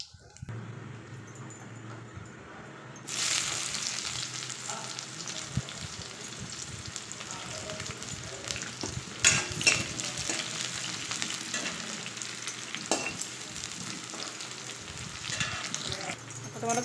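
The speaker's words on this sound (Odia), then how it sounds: "ଭେଣ୍ଡିକୁ ଟିକେ ଭାଜିବା ଏବେ। ଆଉ ଏଠି ମୁଁ ତେଲ ବି ପକାଇ ସାରିଲିଣି।" Okra frying in hot oil with mustard seeds and dried chili: a soft background hiss gives way to a steady, close sizzle that holds without talking, with occasional stirring sounds and a few brief spikes.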